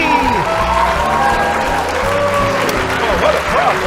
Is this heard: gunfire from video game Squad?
no